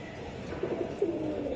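Budapest pigeons coo softly nearby in a few short burbling notes over quiet background noise, with no voices.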